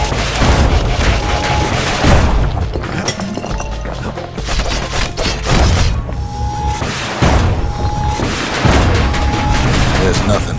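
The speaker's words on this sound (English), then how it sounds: "As the hour grows desperate, the Ura bring out their big guns." Heavy artillery booms and thuds repeatedly from the Ura's big guns in the Bastion video game, loud and dense, with several strong blasts over a continuous rumble of battle.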